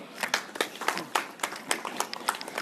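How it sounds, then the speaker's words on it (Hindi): Audience applause at a residents' gathering in Datta Enclave colony on Kanwali Road, Dehradun: a moderate, uneven patter of clapping from a modest crowd, steady for a few seconds with no voices over it. "ताली जरा जोर से बजनी चाहिए।"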